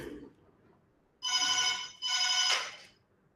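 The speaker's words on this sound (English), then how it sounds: "I'm getting a phone call." A telephone rings with an incoming call, two long electronic bursts of bell-like tone separated by a short gap, fairly loud and close, with no talking over it.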